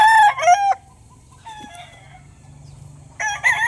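A Gilmore gamefowl rooster crows loudly and close by. Two strong calls bracket the clip, with quieter clucking and low farmyard background in between.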